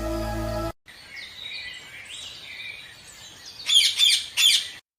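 A pet parrot in a Hindi folk tale gives a string of bright chirps and whistles after a brief musical tone, ending in two louder squawking bursts, heard alone without speech.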